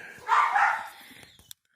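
A couple of dogs bark in a short burst, a cluster of sharp yaps up front that fades into quieter rustling, with a brief click near the end.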